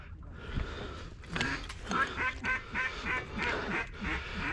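Ducks on a lake quack in a busy series of nasal calls at moderate distance, with faint voices in the background.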